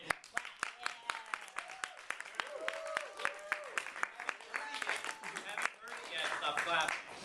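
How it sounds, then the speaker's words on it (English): A small audience at a technical meeting claps in sharp, scattered bursts, individual hand claps close and distinct, with people talking and laughing over and between them. "Stop clapping."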